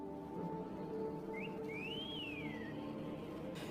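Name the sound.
loud whistling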